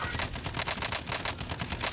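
Rapid automatic gunfire rattles continuously in Call of Duty: Warzone, loud and close, the bursts blending into a dense, unbroken stream of shots.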